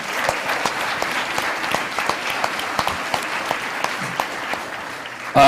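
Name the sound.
audience applause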